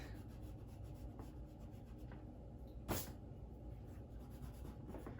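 A pencil sketches the contour of a shoe on paper, giving a steady, close, soft scratching and rubbing with one sharper stroke partway through.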